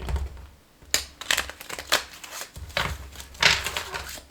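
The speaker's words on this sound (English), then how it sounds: "It's kind of hard to shuffle these little tiny cards without messing up my spread at the same time." Small cards are shuffled and riffled in quick, crisp bursts of flicking and tapping, close up, with short pauses between rounds.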